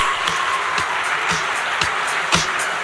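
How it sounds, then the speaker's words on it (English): Gala dinner audience applauding a guest, a steady wash of many hands clapping in a large room, with a few sharper nearby claps standing out. "Please give him a round of applause"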